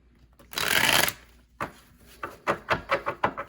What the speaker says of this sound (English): Let me grab some more cards here.